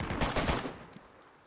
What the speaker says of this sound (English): That sounds like a new gun, doesn't it?